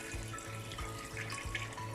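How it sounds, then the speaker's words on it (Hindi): Water poured into a pot of beef paya during cooking, a steady faint splashing and trickling stream running for the full two seconds with no talk. "अब हम इसमें पानी डाल देंगे।"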